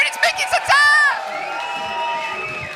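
A comedy club audience in Manchester cheers, whoops and shouts as a comedian takes the stage, loud and close, with a compere's voice over the first moments before the crowd noise settles to a murmur.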